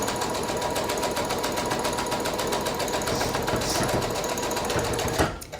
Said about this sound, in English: I'm going to do my stitch just a little bit beyond where that 1/4 inch stitch is